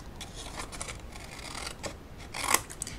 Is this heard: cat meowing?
no